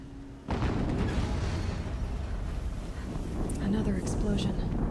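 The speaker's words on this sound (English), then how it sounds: "Another explosion." A sustained, rumbling blast roars continuously in Horizon Zero Dawn gameplay, a loud, dense explosion-like din with crackling bursts that starts abruptly and fills the whole stretch, with no talking over it.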